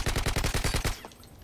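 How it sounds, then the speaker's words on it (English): Rapid automatic gunfire in the Modern Warfare 2 video game, hardcore Capture the Flag on the Quarry map: a loud burst of about nine evenly spaced shots, then a short fading tail. "Celebratory gunfire!"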